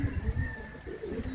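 A king pigeon cooing close by, a soft low rhythmic burbling that pulses steadily through the short moment with no talk over it.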